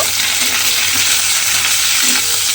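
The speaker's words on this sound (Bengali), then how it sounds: "দিয়ে এবারে ঢ্যাঁড়সটা একটু লাল করে ভেজে নেব" Okra frying in a pan with a little salt and turmeric, a dense, loud and continuous hiss of sizzling oil up close, with no voices.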